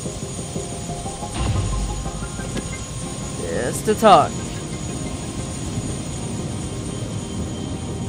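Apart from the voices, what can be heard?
helicopter from the video game Prey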